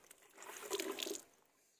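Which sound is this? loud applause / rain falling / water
water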